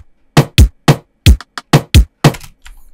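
Punchy electronic drum loop in an RKT-style beat made in FL Studio, with about nine sharp, loud kick-and-snare hits in a syncopated pattern with silence between them.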